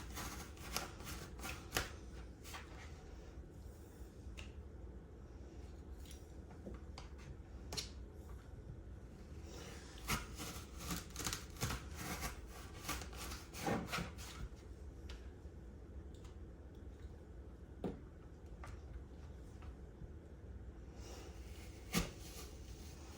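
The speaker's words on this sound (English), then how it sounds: "is to peel, slice, and core my apples" Apples being peeled, sliced and cored by hand in a kitchen, with soft scraping and repeated light knife taps and clicks, quiet and close, spread irregularly over a low background hum.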